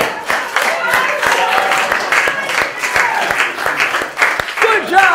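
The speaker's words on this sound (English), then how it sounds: "Give him a round of applause." Applause from a comedy club audience at the Broadway Comedy Club, steady and fairly loud throughout, with sharp individual claps standing out and voices talking and calling over it.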